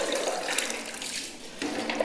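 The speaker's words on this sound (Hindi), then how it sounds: "अब इसके बाद ये देखें आबे काफूर का पानी ले रहे हैं।" Camphor water being poured during a ritual washing of the dead, a steady close splashing stream of water that runs without break for two seconds, with no talk.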